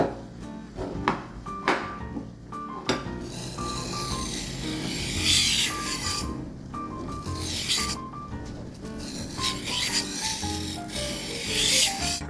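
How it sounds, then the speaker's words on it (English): Knife blade being sharpened on the smoother side of a sharpening stone, a steady close scraping and rubbing rasp with repeated strokes, continuous and fairly loud with no talking. "Alright, it should be sharpened now."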